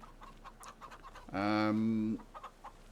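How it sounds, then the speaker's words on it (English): Chickens in a Farming Simulator 25 farm coop, one clear loud cluck lasting under a second amid faint scattered clucks, with someone talking quietly around it. "I put a few chickens in. There's about 40 or 50 in there now."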